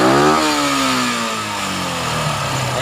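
A Yamaha FZ motorcycle with a hard-starting fault fires up and runs, a loud close engine note that revs down in pitch after catching and settles into a steady idle.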